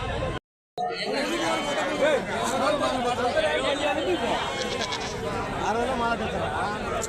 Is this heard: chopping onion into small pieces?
no